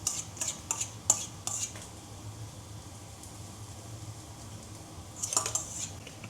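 Cooked quinoa is drained and spooned onto a plate, giving light clinks of utensils against dishes in a few short bursts with quieter handling between.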